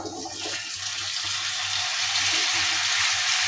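Washed pumpkin pieces dropped into a hot pan of onion, turmeric and garlic, giving a steady, loud sizzling hiss and watery crackle that continues throughout with no talk.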